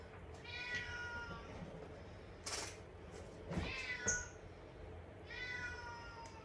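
A ginger cat meows several times in a home kitchen, the calls clear and fairly close, spaced out over a low background hum with a few soft knocks.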